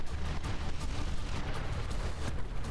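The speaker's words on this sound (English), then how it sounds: "We'll like see big frag explosions in the distance." Distant battleship frag explosions in the naval combat game From the Depths form a continuous dense rumble of booms and crackling bursts, with no single blast standing clearly apart.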